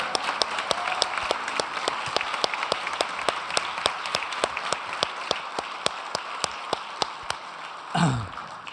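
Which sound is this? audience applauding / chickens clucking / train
audience applauding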